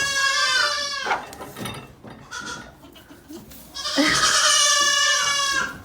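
Goats in a farm pen bleat loudly at close range, two long wavering calls with a brief quieter gap between them.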